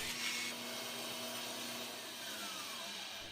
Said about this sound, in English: I cut a piece of 2x2 pine at 35 degrees